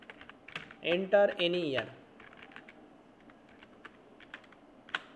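Scattered clicks of a computer keyboard tap out C code, soft and close, with brief bursts of keystrokes around a short stretch of someone speaking.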